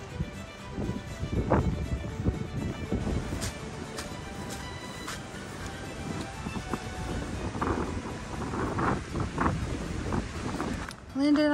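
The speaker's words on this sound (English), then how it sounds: "It's really windy." Strong wind on the Appalachian Trail buffets the microphone in heavy, rumbling gusts that rise and fall, with a faint voice under the roar.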